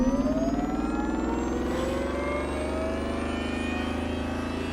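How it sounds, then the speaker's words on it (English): Electric race car in a racing video game accelerating hard, a steady rising synthetic whine with layered harmonic tones climbing in pitch, loud and continuous without any talk. "these are the electric engine sounds that I hate the least"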